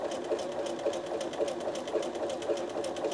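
A sewing machine stitches fabric applique with a close, rapid, even mechanical clatter that runs steadily throughout, with no one speaking.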